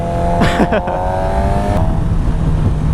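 A 2017 Suzuki GSX-R750 motorcycle engine revs briefly near the start, then settles into a steady idle under background noise, with some voices mixed in.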